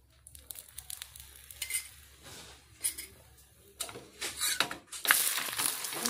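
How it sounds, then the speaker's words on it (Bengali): Paratha made with flour and peas fries in a pan with a faint, uneven crackle, punctuated by scrapes and light utensil clinks that grow louder toward the end. "বন্ধুরা, এইভাবে আমি প্রত্যেকটা পরোটা ভেজে নেব।"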